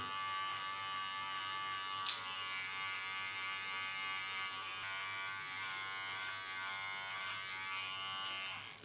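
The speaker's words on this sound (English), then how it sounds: "And then with a small clipper I clean the contour." A small electric hair clipper buzzes steadily and close while trimming the contour of a hair style, a continuous whining hum with a brief clicking bump early on and no speech.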